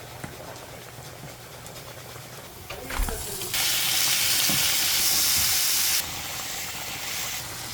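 Crushed garlic hits a pan of onions in hot oil, a sharp clatter followed by a loud, steady sizzle and hiss that drops back partway later.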